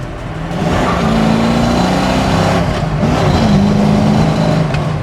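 A 1969 Ford Mustang Mach 1 with carburetor and manual gearbox accelerates hard, its engine rising in pitch through the revs, easing briefly at a gear change, then climbing again, loud and close.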